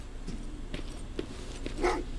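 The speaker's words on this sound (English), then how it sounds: "Well, what's with the dog?" A dog in the video game Terminator Resistance, with a few short, muffled barks and whimpers at moderate level over a steady background hum.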